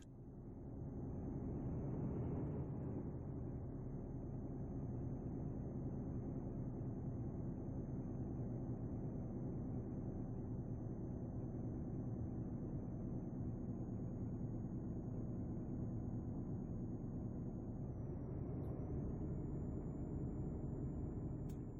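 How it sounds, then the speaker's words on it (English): Heavy trucks drive past in Euro Truck Simulator 2, a low continuous engine and road rumble that swells briefly and then holds steady throughout. "I love the sound the trucks make when they go past the window."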